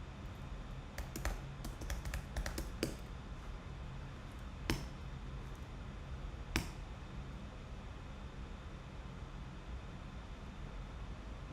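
A few scattered runs of computer keyboard taps come early, then isolated single keystrokes, each crisp and nearby over a soft constant hiss, with long quiet stretches after.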